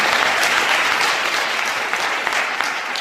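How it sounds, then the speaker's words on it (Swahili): Sustained applause from an audience of parents at a girls' high school induction, dense and steady clapping filling the whole stretch with no voices. "Tupige makofi tena basi."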